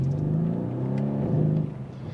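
A 580 bhp Mercedes C63S AMG V8 revs at the Nürburgring, a deep, steady engine drone with harmonic rumble that swells slightly, then eases off near the end.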